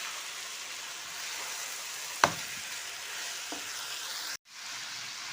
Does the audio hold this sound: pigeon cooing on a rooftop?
no